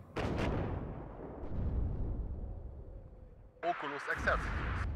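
Units opening fire in the Cold War strategy game WARNO: a couple of sharp booming shots decaying into rumble, then a radio voice speaking over the continuing battle noise.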